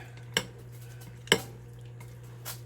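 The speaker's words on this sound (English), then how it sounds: "I'm going to give this another stir" A spoon stirring seafood ceviche in a bowl produces two distinct bright clinks against the dish about a second apart, then a fainter scrape, over a low steady hum.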